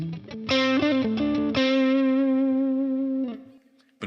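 An electric guitar through a tube amp on its crunch setting plays a quick run of notes into one long, bright, sustained note with slightly gritty overdrive that fades near the end, with no talk.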